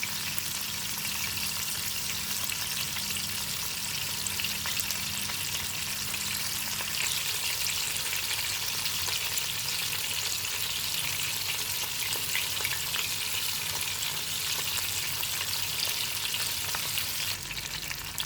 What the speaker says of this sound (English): Fry the first batch and adjust it into medium fire.